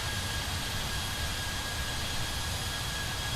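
Airliner landing in Microsoft Flight Simulator 2020, an A32NX on short final at Marrakesh: a steady, broad jet-engine roar with a faint high whine, constant and unbroken, with no voices.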